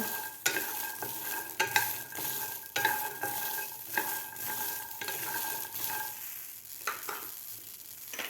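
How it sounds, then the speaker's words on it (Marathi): Green peas for a matar kachori filling roast in a pan, with rhythmic spatula scrapes about once a second over a soft, steady sizzle that thins toward the end. "पॅनमध्ये आपल्याला मटार घालायचे आहेत सुद्धा आपल्याला व्यवस्थित भाजून घ्यायचे आहे त्याला डाक पडेपर्यंत"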